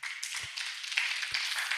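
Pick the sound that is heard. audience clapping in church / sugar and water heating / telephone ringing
audience clapping in church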